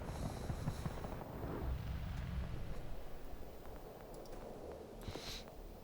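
A rocket explodes against the player in the Battlefield 2042 video game: a muffled, rumbling blast heard fairly quietly, fading into low battlefield noise with a few faint crackles and a later sharp burst.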